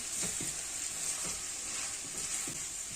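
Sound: stirring red pepper paste into sautéing chicken, vegetables and mushrooms

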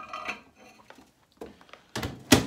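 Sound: plate of crumpets put into the microwave

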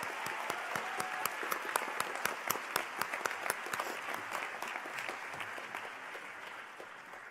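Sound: audience applause at graduate school convocation

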